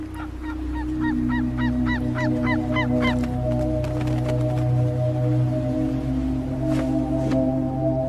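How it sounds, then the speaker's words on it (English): Steller's sea eagles in wintering grounds in Japan giving a series of repeated high, clipped yelping calls, loud and near at first, then fewer calls over a steady low rumble of wind or surf. "Stella's sea eagles."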